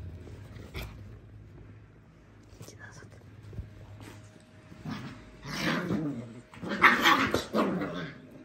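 Italian greyhound puppies growl and yip while playing, small rumbling growls and brief yelps close by, mixed with quiet whispered talk.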